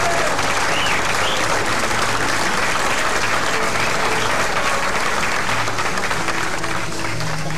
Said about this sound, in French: applaudissez-les, regardez